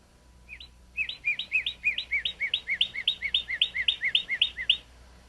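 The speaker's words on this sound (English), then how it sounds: "This is the sound of a cardinal." A northern cardinal sings a clear run of about fifteen rapid, evenly spaced whistled notes, each sliding downward, close and distinct over a quiet background for roughly four seconds.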